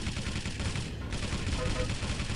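Rapid machine gun bursts and blasts crackle through a fast-paced multiplayer shooter match, dense and continuous at moderate loudness, with a commentator talking over the gunfire.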